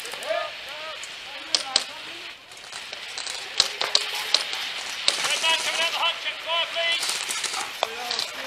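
Sharp, snappy airsoft gun shots crack out singly and in quick pairs at irregular intervals over a busy outdoor background, some close and loud, others fainter.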